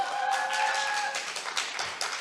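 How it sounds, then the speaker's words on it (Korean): Scattered claps from a workshop audience at a military reading-coaching event, a brief patter of hand claps with some feedback-like tonal hum in the first half, moderately close and without speech. "박수."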